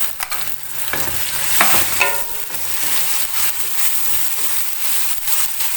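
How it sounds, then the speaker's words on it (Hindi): Onions fry in a pan with garlic-ginger paste, giving a steady loud sizzle with stirring scrapes and clinks throughout, and no voices. "प्याज को लहसुन अदरक के पेस्ट के साथ अच्छी तरह मैं फ्राई करूँगी, अच्छी तरह भूनूंगी।"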